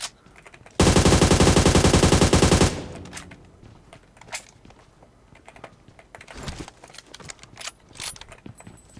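Rapid automatic gunfire in a shooter game, one loud, fast-rattling burst of about two seconds, followed by quieter scattered shots and clicks in the background.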